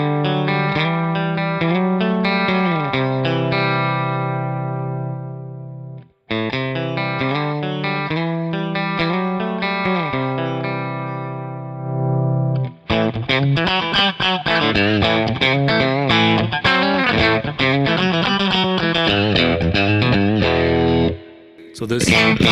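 Clean electric guitar run through the compressor in a Kemper Profiler rig rings out sustained chords, then shifts into faster strummed and picked passages, loud and close with effects shimmer.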